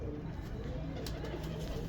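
A pigeon coos softly at a loft among a few mated pairs, low murmuring calls over a steady background hiss, faint and close.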